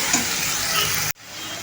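Tomatoes sautéing in a pan while making dried bombil chutney: a steady close sizzle and frying hiss that cuts off abruptly near the end, then softer sizzling resumes.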